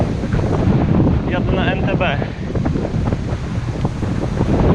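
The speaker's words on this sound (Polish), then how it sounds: "A wiatr mnie spycha." Heavy wind buffets the microphone in a constant roaring rumble while cycling into a headwind, with someone speaking briefly in Polish partway through.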